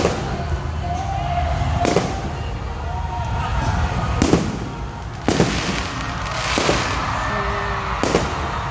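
Repeated sharp fireworks bangs burst out every couple of seconds over a steady crowd rumble, with people talking nearby.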